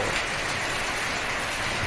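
Heavy rain comes down during a windy night storm, a thick, constant hiss of drops that stays loud and uniform from start to finish, with nobody talking.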